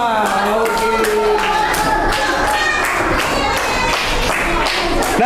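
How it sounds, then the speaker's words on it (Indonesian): Classroom participants at a Catholic religious teacher training session clap for the winning groups, a steady, close round of applause running throughout with voices calling and cheering over it. "Tepuk tangan buat semua."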